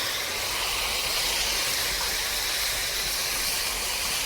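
Water hits a hot pan of fish curry made with fresh pond-caught bhetki, giving a loud, steady sizzling hiss that fills the whole moment without pause.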